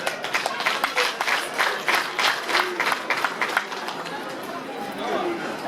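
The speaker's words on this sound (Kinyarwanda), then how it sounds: "nimuhuze ibiganza bibyara amashyi maze dushimire abantu uburyo batwakiriye" A crowd at a Rwandan wedding celebration in Musanze bursts into sustained rhythmic clapping and applause, with chatter underneath, fading toward steady crowd noise at the end.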